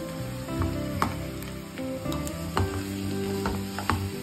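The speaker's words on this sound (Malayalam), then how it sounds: "പിന്നെ ഞാൻ ചിക്കൻ കഷ്ണങ്ങൾ ചേർത്ത് കൊടുക്കുകയാണ്." Chicken pieces drop into hot oil with sautéed onions and curry leaves for a pepper chicken masala, giving a steady close sizzle with scattered sharp clicks and scrapes from stirring, no voices.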